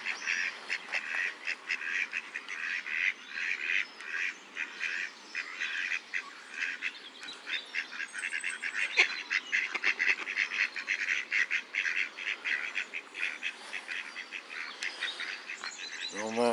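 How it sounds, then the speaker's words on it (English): Ducks in a city park in May quacking repeatedly as they waddle closer, a busy chorus of nasal calls at moderate distance over quiet outdoor ambience. "the ducks are coming, giving us a right old song here"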